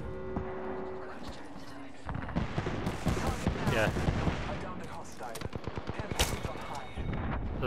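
Rapid gunfire in a battle royale video game crackles in dense bursts and single shots throughout, loud and close, while players talk over it.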